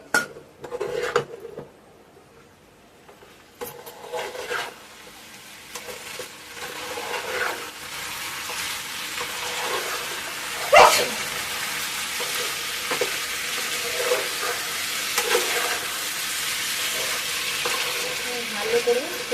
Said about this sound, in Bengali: এবার আমি সয়াবিন আর আলু একসাথে, ভেজে রাখা আলু একসাথে দিয়ে দিলাম। আমি ভালো করে কষে নেব।